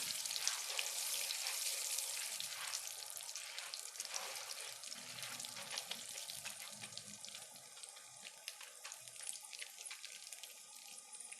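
Corn kernels for popcorn are mixed into hot, smoking oil in a pot, a steady bright hiss and sizzle with scattered small clicks, close but quiet.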